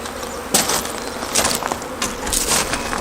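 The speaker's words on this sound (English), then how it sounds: "just shake the bees out of the box into their new home." Honeybees are shaken from a nuc box into their new hive, producing a loud, close buzzing hum with sharp knocks and rustles as the box is jolted, the swarm sound rising in bursts.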